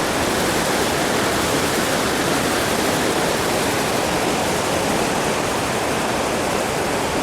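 Monsoon waterfall at Ranchi pours with a steady, dense roar of rushing water, loud and unbroken throughout with no voices.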